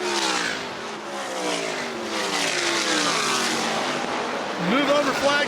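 Sprint cars race around the track at Las Vegas in a feature event, several engines revving and droning loudly as they pass, with an announcer talking over the roar throughout.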